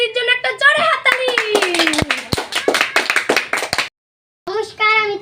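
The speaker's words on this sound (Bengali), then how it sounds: "তো ট্যাং ট্যাং দির জন্য একটা জোরে হাততালি" Loud, fast clapping from a small group in a Bengali comedy show, rapid sharp hand claps layered under excited talk and child-like chatter, breaking off briefly before voices resume.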